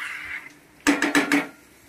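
A spatula clanks against a pot while chicken for a Bengali chicken curry is stir-fried over a gas flame: four quick close metallic knocks after a moment of soft cooking noise.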